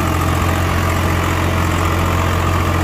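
A Swaraj 744XT tractor engine runs just after a gear change, a loud, steady low drone with a constant hum and an even level throughout, heard up close with no voices.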